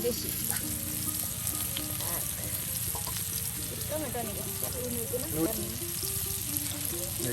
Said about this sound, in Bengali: দেখুন তেল দিয়ে সুন্দর করে কিন্তু মাছগুলো ভেজে নেওয়া হচ্ছে